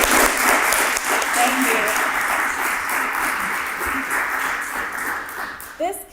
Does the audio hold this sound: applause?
yes